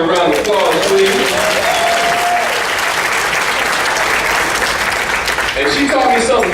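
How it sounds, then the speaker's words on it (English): Sustained audience applause at an opening session of a minority aging institute, a dense, loud wash of clapping from a large crowd lasting the whole time, with a voice heard briefly over it. "Give my mother a round of applause,"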